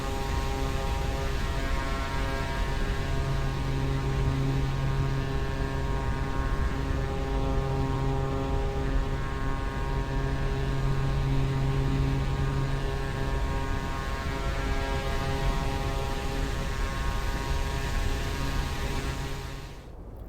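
Propeller engine of a Pilatus PC-6 in the X-Plane 11 flight simulator: a loud, steady humming drone with a constant tone that continues without a break and fades out at the very end, with no talking.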